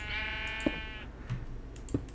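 Sheep bleating in Minecraft with the FTB Unleashed modpack: a sustained, wavering bleat over the first second, followed by small clicks and taps, all moderately loud with no talking.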